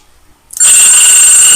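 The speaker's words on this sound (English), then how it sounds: "phone ringing" A telephone rings loudly and close, a sustained electronic bell tone that starts abruptly after a brief quiet moment and continues steadily.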